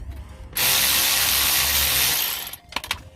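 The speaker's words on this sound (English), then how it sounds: "Then just loosen this bolt off." A power tool spins to loosen a bolt, a loud close whir lasting about two seconds that cuts off sharply, followed by a few clicking knocks.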